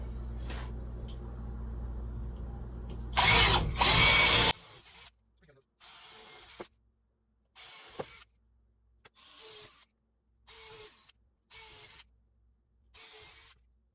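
A power drill drives screws into the bottom of a wooden pallet, first with a loud grinding burst, then with a series of short, evenly spaced whirring spins, close by. Quieter handling noise comes before the drilling.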